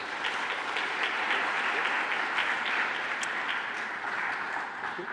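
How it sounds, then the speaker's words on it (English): A conference audience gives the speakers a warm round of applause, with dense, sustained clapping filling the room at a steady level throughout. "let's give all the speakers another big round of applause"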